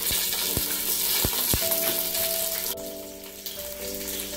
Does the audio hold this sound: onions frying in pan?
yes